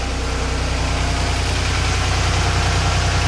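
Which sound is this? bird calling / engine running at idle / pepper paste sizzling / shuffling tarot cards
engine running at idle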